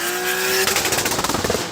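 Toyota Supra Mk4 TRD with its twin-turbo engine revving hard, a rising whine that breaks into rapid stuttering pulses as it bounces off the rev limiter, loud and close.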